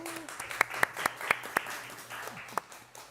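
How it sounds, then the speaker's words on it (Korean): Scattered individual claps ring out in a hall as a youth MC is welcomed at a political party presidential primary debate event, with a handful of sharp, distinct hand claps over a low background murmur. "남하경 청년 MC 여러분 큰 박수로 맞아주시기 바랍니다."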